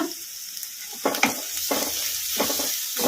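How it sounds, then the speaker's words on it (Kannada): Vegetables for egg fried rice fry on high flame in a pan, a bright sizzle punctuated by about five rhythmic stirring scrapes and tosses, close and clear with no talk. "ಫ್ರೈ ಮಾಡ್ಕೊಂಬಿಡೋಣ ಹೈ ಫ್ಲೇಮಲ್ಲಿ ಈ ಥರ ಕಲಿಸ್ಕೊಂತ ಕಲಿಸ್ಕೊಂಡ್ಬಿಟ್ಟಿವಲ್ಲ"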